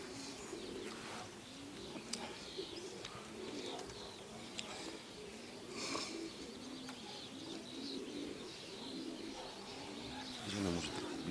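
Soft, repeated pigeon cooing rises and falls at a moderate distance, with occasional faint chirps and quiet background noise.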